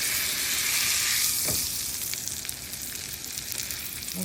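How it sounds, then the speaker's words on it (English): Pork sears in a pan of butter and olive oil with a loud, steady crackling sizzle close up, easing slightly after a brief stir partway through, and no voices over it. "This one's that sizzle."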